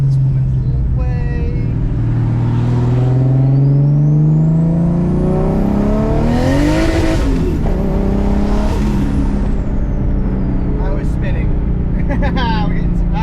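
A tuned 600whp Lexus IS300 makes a full-throttle pull toward 6,500 RPM, the engine note climbing steadily and loud before a gear change, with the engine drone continuing under speech inside the car.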